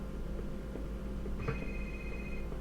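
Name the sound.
cell phone text message alert in The X-Files video game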